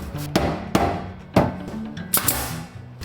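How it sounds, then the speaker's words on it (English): Hammer blows driving nails into tongue and groove ceiling boards in an off-grid bathroom and sauna build, with four or five sharp, loud strikes at irregular intervals and light workshop noise between them. "And while Jord is nailing those pieces in"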